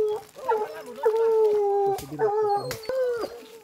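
A hunting dog whimpers and howls during a paca hunt, giving drawn-out, wavering whines that rise and fall in a close, loud series lasting a few seconds.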